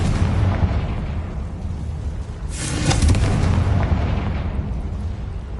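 In the video game Hogwarts Legacy, a Confringo fire spell explodes as a dense, rumbling blast that swells to a bright burst midway and then dies down into a sustained roar, with no talking.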